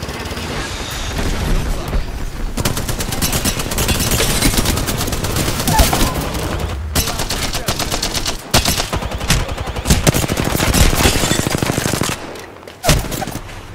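Loud, sustained video game gunfire: rapid automatic bursts and fusillades fill the whole stretch with dense booms, briefly dropping out near the end, with speech faintly mixed in.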